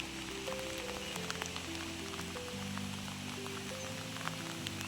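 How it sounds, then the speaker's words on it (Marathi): A rain shower moving in over rural hills, a soft, steady hiss of rain falling on surfaces, faint and continuous, with low tonal hums running underneath. "आता इथे आला पाऊस"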